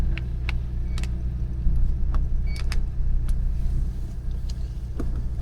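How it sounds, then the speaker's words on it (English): Steady low rumble of a car driving home on the road, heard from inside the cabin, with occasional faint clicks and rattles over the constant road and engine noise; no talking. "I am driving home"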